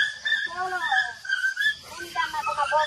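A dog whimpers and whines in rising and falling high-pitched cries, close by and fairly faint, with a quiet voice in the background.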